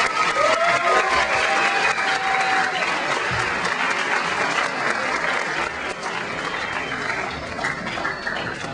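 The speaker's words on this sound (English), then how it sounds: "let's give Mr. Miller and the Spotlighters one more big round of applause" Sustained applause from a high school audience honoring Mr. Miller and the Spotlighters at an honor wall ceremony, loud and steady throughout with a brief dip near the end.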